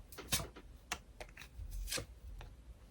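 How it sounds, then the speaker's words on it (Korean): An oracle card is drawn from a deck with a few quiet, sharp card flicks and shuffling snaps, irregular and close. "그럼 우리 이번 분들 조금 그 다른 방향으로 또 다른 좋은 카드 하나만 더 뽑아볼게요"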